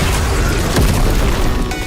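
A plasma cannon finisher blast booms in the Garou video game, a loud, dense burst of noise with a heavy impact peak about midway through the short clip.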